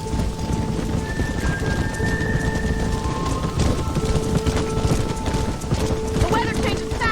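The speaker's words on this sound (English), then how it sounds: "The weather changes fast out here. This storm came out of nowhere." A sudden rainstorm in Red Dead Redemption, dense broadband rain hiss mixed with clip-clopping horse hooves and low rumbles, loud and continuous throughout, with faint tonal game sounds layered in.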